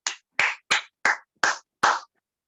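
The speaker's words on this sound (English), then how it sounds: "Give a round of applause to her." Applause from a Toastmasters meeting audience welcoming a speaker: six short, evenly spaced bursts of clapping, each about a quarter second long, fairly close and separated by silence, with no talking.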